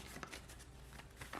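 Faint, soft riffling and flicking of an oracle card deck being shuffled by hand, close but quiet, in a brief run of light papery bursts.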